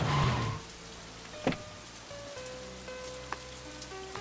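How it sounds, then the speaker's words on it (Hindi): Heavy rain falling in a film scene, a steady broadband hiss under sustained musical tones, with a couple of brief, louder thumps. "बारिश आ गई है"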